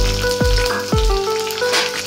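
Green chillies and curry leaves fry in hot oil in a pan for masala dhokla, giving a loud, close, steady sizzle and crackle with scattered pops.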